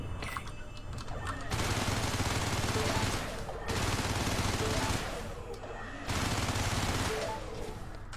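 Ship weapons in the space game Everspace fire at objects to mine them, producing three long bursts of rapid, dense gunfire separated by brief quieter gaps, loud and continuous within each burst.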